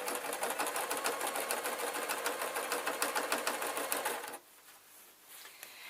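A sewing machine runs steadily while stitching an adult Scottish kilt, its fast needle clatter continuous and close for about four seconds before stopping abruptly, leaving a quiet room.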